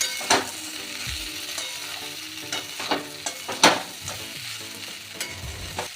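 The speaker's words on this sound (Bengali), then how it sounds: "এবার মশলাটা ভালো করে কষিয়ে নেব।" Spice paste of turmeric, salt, a pinch of cumin powder and a little sugar fries in a pan for a cauliflower-and-fish ghonto, with a steady close sizzle and intermittent scraping stirs of a spoon against the pan.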